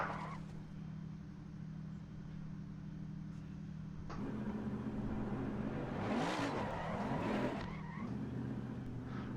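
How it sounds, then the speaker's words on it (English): In the Assetto Corsa Competizione racing game, a race car's engine drones steadily, then revs harder as its tyres squeal and skid while being burned, the screeching rising in the middle before easing off, with no voices. "kick up some smoke here. Try and burn these tyres if I can."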